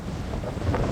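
Wind blows steadily across a Caspian Sea beach where waves are breaking. The gusts buffet the microphone in a low, rough rumble with no voices.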